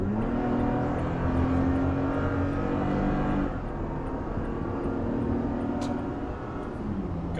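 A 2020 Toyota Tacoma TRD Pro truck pulls up a highway on-ramp with a steady, droning engine note and road rumble that climbs and then eases slightly partway through, heard from inside the cab.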